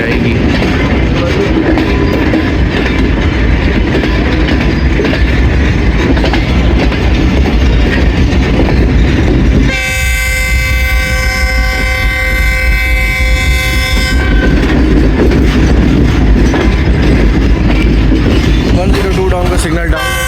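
Pakistan Railways railcar rolling along a loop line at Devna Juliani station, steady rumbling wheel and carriage noise with clickety-clack, broken midway by a long, loud horn blast, loud and close throughout.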